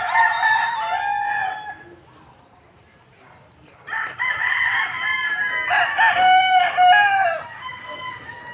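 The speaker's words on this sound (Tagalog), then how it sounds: "Yung mga manok dyan." Chickens on a backyard farm, with a rooster crowing loudly and drawn out twice, separated by a quieter gap of soft clucking and faint chirps.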